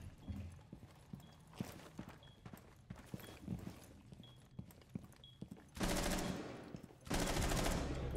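Light machine gun fire in a first-person shooter, heard as scattered sharp shots through the first half, then two long sustained loud bursts of rapid automatic fire near the end.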